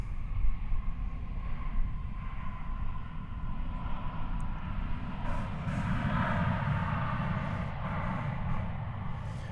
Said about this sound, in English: That was American Flight 2579 arriving from Denver, Colorado.